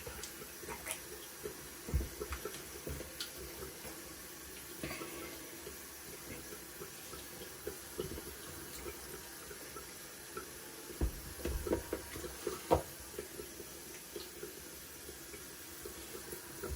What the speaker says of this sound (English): Warm water rinse first.